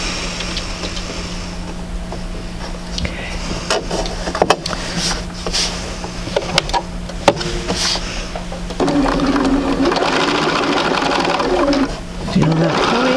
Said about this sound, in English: So let's go over to the sewing machine.